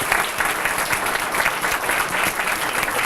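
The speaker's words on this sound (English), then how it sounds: "let's give them a round of applause" A crowd claps steadily at a National Night Out kick-off event honoring police officers, dense, even applause that holds at a constant level throughout with no speech over it.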